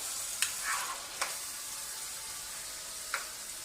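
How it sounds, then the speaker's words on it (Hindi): Chicken with kachnar (orchid tree buds) fries in a pan, a steady hiss of sizzling broken by a few sharp scrapes of a spoon stirring, close up and without talk. "अब हम इसको अच्छी तरह से भून लेंगे ताकि इसका बाकी पानी भी जो है वो भी तकरीबन खुश्क हो जाए।"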